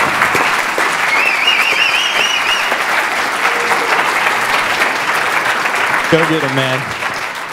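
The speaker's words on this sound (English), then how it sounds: "So give him a big round of applause." An audience at a Kansas City startup pitch meeting gives loud, sustained applause for a nervous presenter. Clapping runs steadily throughout, someone calls out encouragement, and a brief tone sounds near the end.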